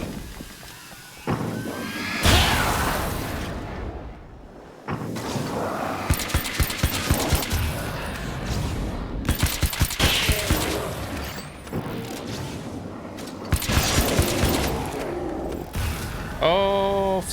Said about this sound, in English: Oh, flashbang.